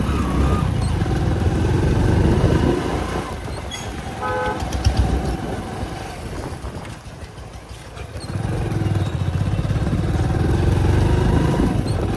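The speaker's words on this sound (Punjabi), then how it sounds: "ਆਪਾਂ ਇੱਧਰ ਪਾਰਕਿੰਗ ਕਰਿਆ ਜੀ ਮੋਟਰਸਾਈਕਲ ਆਪਣਾ" Motorcycle engines rumble nearby in traffic at a gurdwara parking area, with a short horn toot in the middle and the engine noise swelling again toward the end.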